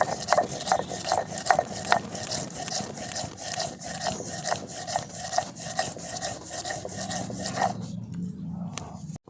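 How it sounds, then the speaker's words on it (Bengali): Mustard seeds are ground into paste by hand on a grinding stone, a rhythmic rasping scrape repeating back and forth, close and steady, before stopping near the end. "দেখুন এই সর্ষেটাকে আমি বেটে নিচ্ছি।"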